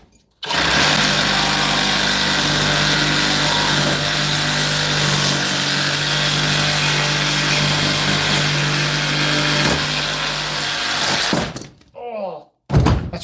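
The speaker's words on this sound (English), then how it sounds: "Oh, that's why I hate this Sawzall." A big, heavy Sawzall reciprocating saw cuts through a piece of scrap brass, roaring loud and continuous with a harsh buzzing rattle for about eleven seconds before stopping abruptly, followed by a few clunks.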